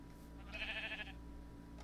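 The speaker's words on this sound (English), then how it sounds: "Okay, how many sheep we got here?" A sheep bleats once in the video game Minecraft, a short wavering mid-pitched call of moderate loudness over a steady low background hum.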